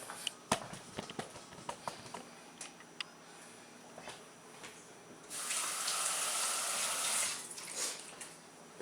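Fresh juice poured from a home juicer after a few light handling clicks, flowing in a steady two-second stream before it tapers off, close and fairly quiet, with no voices.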